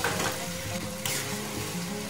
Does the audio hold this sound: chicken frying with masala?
yes